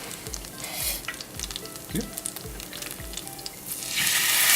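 Leftover meatball meat is scraped from the bottom of a pot of Dutch meatball gravy as beef stock goes in, giving repeated soft scraping strokes over a gentle sizzle.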